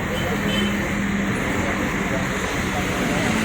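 A smooth-running Als 208 bus engine on the Cikampek route gives a steady, even rumble amid continuous road and traffic noise, with faint voices in the background.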